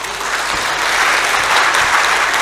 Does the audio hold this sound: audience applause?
yes